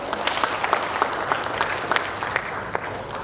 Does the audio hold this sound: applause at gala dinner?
yes